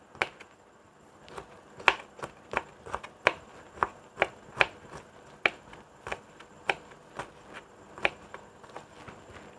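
A knife chops garlic finely on a board, with crisp, evenly spaced taps in a steady rhythm, close and clear with no talking.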